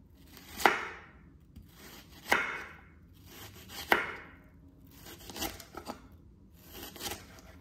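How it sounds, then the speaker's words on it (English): A knife chopping an onion for tofu bolognese on a board, with three strong, spaced crunching cuts followed by a series of quicker, lighter slices, close and crisp with no talk. "let's cut up this onion now"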